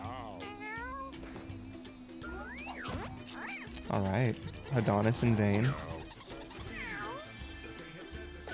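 Cats meowing in the video game Mewgenics, several rising and falling meows and drawn-out caterwauling calls in quick succession, fairly close and loud, with someone talking between them and faint chimes.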